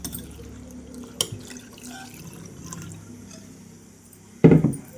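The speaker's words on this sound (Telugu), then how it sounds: "ఇప్పుడు తీసుకున్న పులుసు కూడా పోసేస్తున్నాను." Tamarind juice is poured into a pot of vegetables while cooking pappu pulusu. Quiet liquid trickles and a few drips come first, then a short, loud splashing pour near the end.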